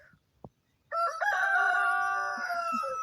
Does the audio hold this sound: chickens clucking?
yes